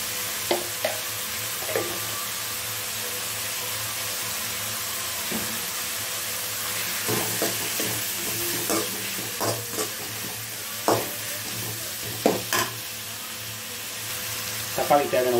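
Tomatoes sauté in a pan for tomato rice, a steady sizzle broken by scattered scraping and clinking stirs that grow busier toward the end; nearby and without speech.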